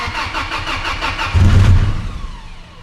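A car engine cranks with a rhythmic starter churn, then catches and fires into a loud rumbling idle that settles slightly, heard close and alone.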